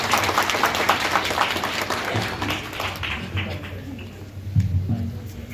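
Audience at a gathering applauding to welcome a speaker to the stage, a dense wash of clapping from many hands that holds steady and slowly thins, with murmuring voices underneath.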